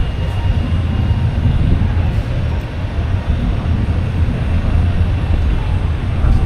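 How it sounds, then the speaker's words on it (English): A through train passes near London Bridge on a city street. A loud, continuous low rumble holds steady for several seconds with no clear break. "That's a through train."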